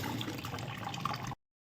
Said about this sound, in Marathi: चला इथं 2-4 पाण्याने स्वच्छ धुवून 6 ते 7 तासासाठी भिजत ठेवायची